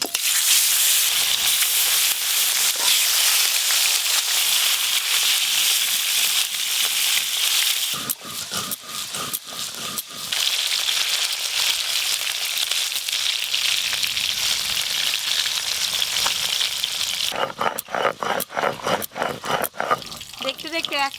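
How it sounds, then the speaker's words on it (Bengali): Fish rubbed with salt and turmeric frying in hot oil: a loud, constant hissing sizzle, broken by bursts of sharper crackling and clatter as the pieces are turned. "তেল গরম হয়ে গেছে, এবার মাছগুলো ভেজে নেব।"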